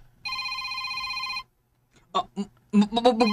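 A telephone rings with one sustained electronic trill while a call is being placed, then cuts off into silence before voices begin talking.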